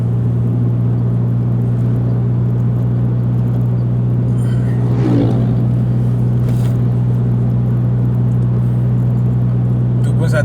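A motorcycle ridden along a winding road gives a steady, loud, low engine drone with constant wind rush that runs unbroken throughout.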